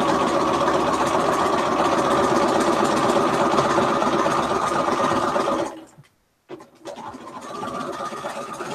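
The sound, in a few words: sewing machine stitching a quilt Y seam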